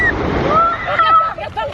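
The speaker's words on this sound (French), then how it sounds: "Ça surprend les vagues, hein?" Sea waves break and wash at a beach, a loud, continuous rushing surge with wind buffeting the microphone, and a voice over it.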